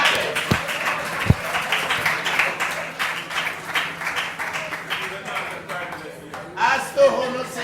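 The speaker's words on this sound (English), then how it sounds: "Now let's give the geniuses of 6A a very big round of applause." A crowd claps steadily for several seconds, a dense patter of many hands with a couple of louder thumps near the start.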